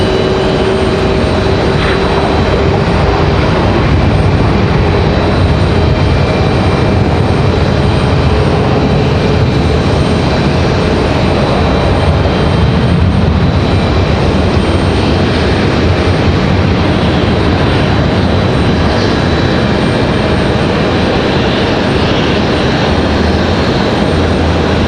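A United airliner at Raleigh Durham International Airport makes a continuous engine roar, steady and fairly loud throughout, with a slight swell in the first half and no voices.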